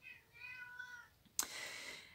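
A cat meows indoors, a drawn-out harmonic call followed by a sharper, louder meow about halfway through, close and alone with no talk.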